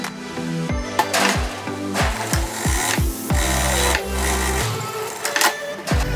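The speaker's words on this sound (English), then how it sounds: "I just did a top stitch on the right side of the garment" A sewing machine running steady top stitching along a skirt hem, a rapid close mechanical whir with rhythmic thumping and brief pauses, loud and alone with no talk.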